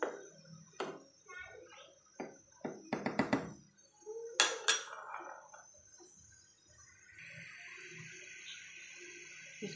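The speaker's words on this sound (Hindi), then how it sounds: "अब हम इसमें डालेंगे चीनी ऐड करेंगे और इसको चम्मच के साथ अच्छी तरह मिक्स कर देंगे।" A spoon scrapes and clinks against a pot while sugar is stirred into apricot chutney, with scattered metallic taps and splashy stirring up close. A voice is briefly heard talking.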